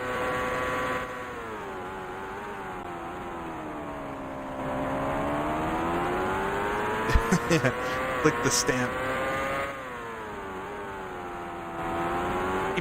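Race car engine in the video game IndyCar Racing II, a sustained buzzing drone whose pitch rises and falls as revs change, with a short burst of tire squeal and someone talking over it.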